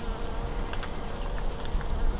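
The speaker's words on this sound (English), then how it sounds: "See, the bees are starting to come. They love these flowers," Bees buzz steadily around dahlia flowers in a suburban pollinator garden, a continuous close insect drone with no talking.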